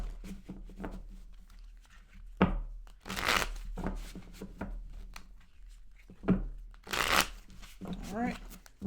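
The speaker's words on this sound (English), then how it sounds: "I'm going to shuffle up these cards." Tarot cards are shuffled in quick riffling bursts, crisp and close, with soft handling rustles and a voice speaking between them.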